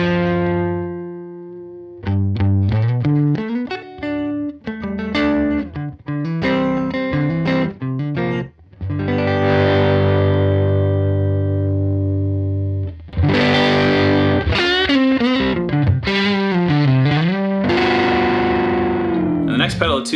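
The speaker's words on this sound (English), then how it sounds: "when you take a fuzz sound and turn your guitar volume down, you can get this beautiful Hendrixian clean tone" Electric guitar run through a fuzz pedal with the guitar's volume knob rolled back for a cleaner tone, playing chords and bends with sustained ringing notes in bursts, fairly loud and up close with no talking.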